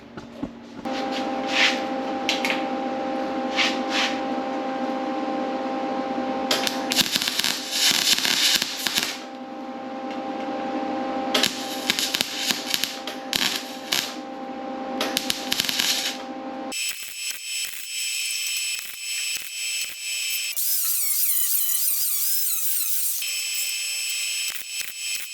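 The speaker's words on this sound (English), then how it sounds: "So I'll set you back a bit, and I'll get set up to weld, and" Welding on the sill and B pillar of an MGA roadster during restoration: loud crackling, sputtering bursts in several separate runs with short pauses between them, then a stretch of sharp hissing noise toward the end.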